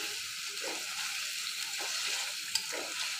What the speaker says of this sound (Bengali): এখন আমি ভালোভাবে নাড়ে চাড়ে পানিটা শুকায় নেব এবং মুরগিটা ভুনবো